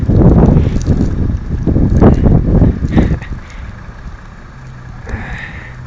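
Strong gusts of wind in a snow storm buffet the microphone with loud, rumbling roars for several seconds, then ease into a quieter, steady blowing.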